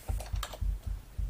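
Keys clack on a computer keyboard in a quick close burst of about half a dozen soft taps at an uneven rhythm, with no talking over them.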